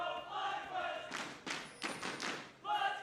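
Live crowd at an NA LCS League of Legends esports match between Clutch Gaming and FlyQuest cheers in loud bursts over a steady arena hum, with caster voices talking underneath.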